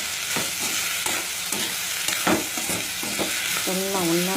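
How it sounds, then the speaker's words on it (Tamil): Mushroom curry ingredients with tomato sautéing over a medium flame, a dense close sizzle with rhythmic spoon scrapes against the pan every half second or so. "எல்லாம் ஒன்றா சேர்த்து நல்லா வதக்கணும்"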